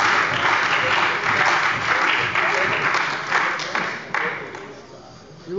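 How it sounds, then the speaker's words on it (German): Applause in the Hessen state parliament during a plenary budget debate: dense, close clapping from many members that holds steady, then thins out and fades toward the end. "der Applaus ist kaum verhallt"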